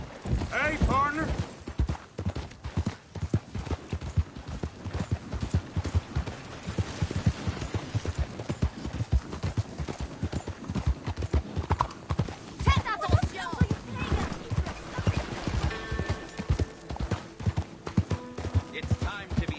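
Horse hooves clip-clop steadily in Red Dead Redemption 2, a close, rhythmic gait with occasional whinnies and passing character voices over the top.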